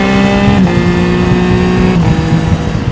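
A 2024 Triumph Trident 660 motorcycle engine holds a steady high drone close by, shifting pitch twice as it pulls harder and speeds up to overtake a car in fourth gear.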